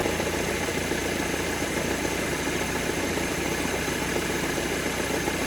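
A Peugeot 207 VTi engine with a new accessory belt idles steadily, a constant low rumble with mechanical hum throughout, no voices.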